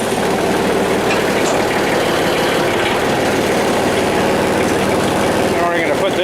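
A 2720 tractor engine runs at a loud, steady idle with a low, rumbling knock throughout, close to the listener.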